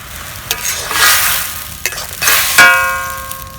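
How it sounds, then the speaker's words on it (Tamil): Water from grated pumpkin boils in a pan for Tamil-style pumpkin halwa, giving a steady loud sizzle and bubbling hiss close by, with a few sharp clicks of a spoon stirring through it. "அதை நல்லா கொதிக்க வச்சுக்கோங்க"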